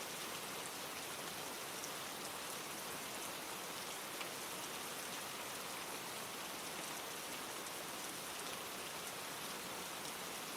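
Steady rain falling, a dense, even hiss of countless drops on surfaces that stays constant and fairly soft throughout, with no voices.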